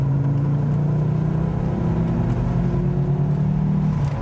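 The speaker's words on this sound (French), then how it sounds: "Ce 5 cylindres, c'est un moteur phénoménal." An Audi five-cylinder engine in a factory-kept car hums steadily and loudly, a smooth continuous drone with a slowly rising pitch as it pulls, no voices over it.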